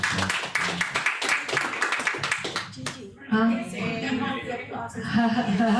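An audience claps in a hall or church setting, with steady applause starting and then continuing under someone speaking over it, moderately loud and close.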